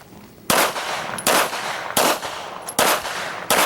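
Five sharp pistol shots at an IDPA match at an outdoor range, fired roughly evenly spaced about three-quarters of a second apart, each loud, close and crisp with a short ringing decay.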